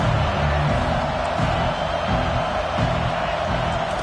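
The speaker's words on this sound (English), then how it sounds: "Here comes the crowd trying to make it tough on 3rd and long." Home crowd at a football stadium roaring on third and long, a dense steady wall of distant cheering and noise that holds throughout without a break.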